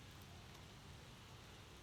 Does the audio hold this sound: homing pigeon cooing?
no